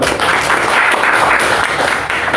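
Students at an Indonesian high school give another round of applause during a class discussion on diversity. The clapping is close and steady for the whole brief moment, with no voices over it.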